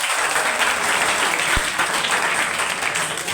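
An audience at a school debate competition applauds the candidates, with dense, sustained clapping from a crowd that fills the room at a steady loud level.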